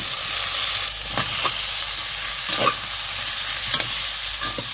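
Kolhapuri red chili powder roasts in oil with eggplant and masala, giving a steady close sizzle and hiss punctuated by several quick ladle stirs and scrapes against the pan.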